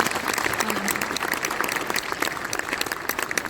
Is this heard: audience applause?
yes